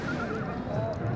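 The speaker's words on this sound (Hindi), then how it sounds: "माशाल्लाह बहुत ही खूबसूरत घोड़ा जी" A horse for sale at a fair in Dera Ghazi Khan whinnies, a wavering neigh carrying over steady crowd noise and talk, with hoof clip-clop mixed into the busy background.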